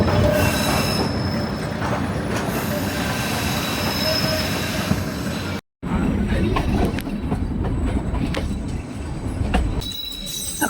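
A Shan State passenger train reverses up a switchback on a century-old mountain railway, wheels squealing and carriages rumbling close by in a continuous grinding roll, with a brief break midway.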